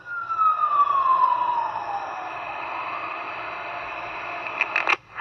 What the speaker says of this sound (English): there was a fire emergency vehicle or ambulance that was going down the road